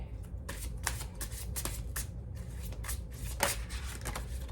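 A deck of tarot cards is shuffled by hand in a quiet room, a run of crisp, close riffling and flicking bursts that repeats steadily for several seconds, with no talking.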